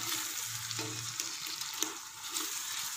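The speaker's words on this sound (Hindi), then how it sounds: "मसाला अच्छी तरह से भून लिया है" Masala for kofta curry frying in a pan, a continuous bright sizzle with brief stirring scrapes, close and fairly quiet, with no voices.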